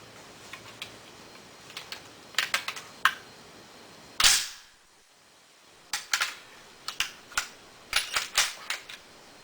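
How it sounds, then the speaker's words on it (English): Semi-automatic rifle bolt released by hand onto a Federal primer, a series of sharp metallic clacks and snaps in irregular bursts, close and loud, with one brief pause partway through. "this is a hand-released bolt"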